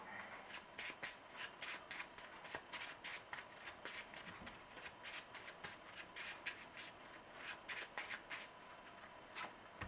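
Cards are shuffled over and over in quick riffling bursts during a Marvel Legendary game, a steady papery flutter close by and fairly quiet, with no one talking.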